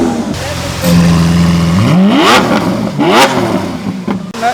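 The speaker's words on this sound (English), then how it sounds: "We're gonna rev this baby." A 700-horsepower Lamborghini Aventador engine revs hard several times, each burst rising sharply in pitch then dropping back to a rumbling idle, loud and close.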